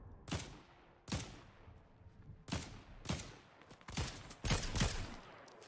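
Gunfire in the video game Fortnite, several separate heavy shots spaced about a second apart, with a quicker cluster of shots near the end, moderately loud over faint background game noise.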